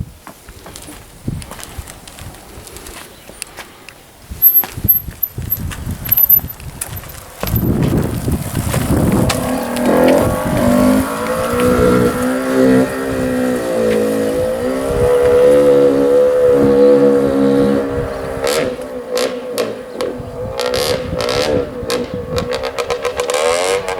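A Derbi 50cc moped is kicked over on choke after sitting unused for a long time, with scattered clanks before the small two-stroke engine catches and runs steadily for the rest of the time, revving up and down nearby.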